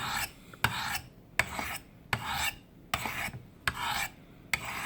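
A CPM 154 steel knife blade is drawn across sharpening stones in steady back-and-forth strokes, each pass a gritty rasping scrape with a sharp tap where the stroke turns, about seven passes in even rhythm.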